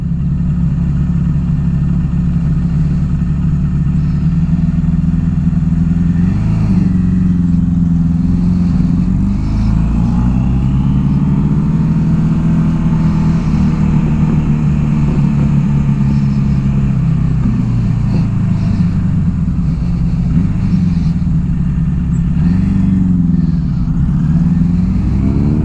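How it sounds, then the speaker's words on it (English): A 1982 Suzuki GS750T motorcycle engine runs steadily close by, idling and then rising and falling through several revs before settling again, with no talk over it. "Because it idles just fine right here at 2."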